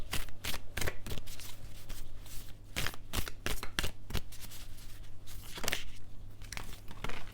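Animal spirit oracle cards being shuffled by hand, rapid close riffling bursts and flicks repeating in an uneven rhythm, crisp and clear with no talking.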